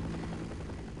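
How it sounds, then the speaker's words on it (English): A helicopter in the video game Half-Life thrums with a low, steady rotor drone, quiet and continuous for about a second. "This motherfucking helicopter was over here?"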